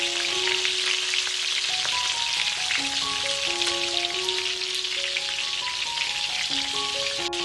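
Steady crackling sizzle of onions, dried red chillies and curry leaves frying in hot oil for a chutney tempering, a continuous hiss with soft melodic music playing underneath.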